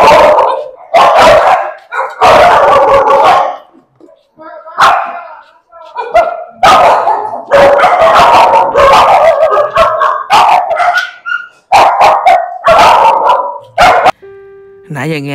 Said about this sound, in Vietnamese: Nãy giờ nghe tiếng mấy em sủa nhiều được rồi